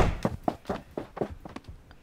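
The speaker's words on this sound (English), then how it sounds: "More footsteps" Footsteps in the game 7 Days thud in an even walking rhythm, about eight steps in quick succession, close and moderately loud.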